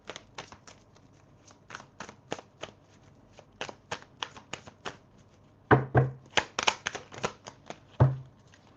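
Tarot cards are shuffled by hand in quick, crisp riffling bursts, a steady run of short flicks followed by a louder, denser flurry of shuffling near the end.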